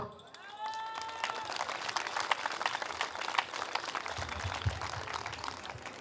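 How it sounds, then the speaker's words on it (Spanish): Applause from an audience at a village fiesta in Santa María Coatlán, a dense, steady clatter of many hands lasting several seconds, with a voice speaking over its start. "Le brindé un fuerte aplauso también, por favor"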